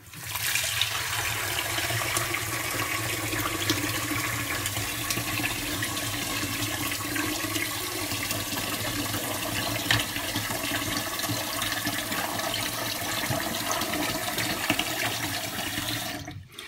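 Water splashes and pours steadily while homemade butter is rinsed in changes of water, a continuous wet rushing wash with small sloshes and no voices.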